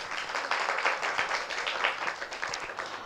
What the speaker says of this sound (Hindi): जरा ताली बजा दो कैलाश चंद जी के लिए